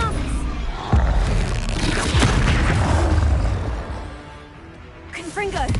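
Spell casting in the Hogwarts Legacy video game during a fight with beasts, with loud booming blasts and impact bursts over steady combat noise, and a short voice near the end.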